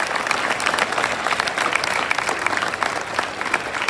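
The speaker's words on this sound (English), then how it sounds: "Give them a big hand clap." An audience at a school youth parliament event claps loudly and continuously, a dense burst of hand claps with a faint murmur of crowd beneath.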